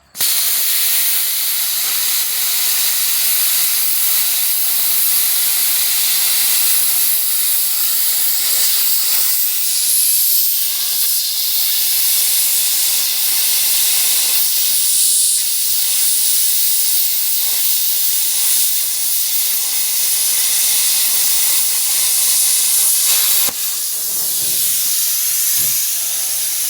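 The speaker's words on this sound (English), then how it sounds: "You can hear the fan when it's running." A budget plasma cutter under $300 runs steadily with its cooling fan, a constant loud hissing, airy roar that holds for the whole stretch with brief dips, close and without talk.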